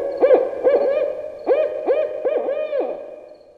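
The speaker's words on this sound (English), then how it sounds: "Owl." An owl hoots repeatedly at close range, about seven clear tonal hoots in a steady rhythm, loud and alone with no other sounds.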